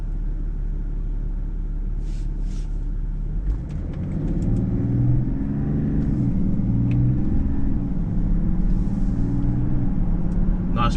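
A BMW pulls away briskly from traffic lights, heard from inside the car. A steady low engine rumble builds as it accelerates, with road noise beneath and faint clicks overhead.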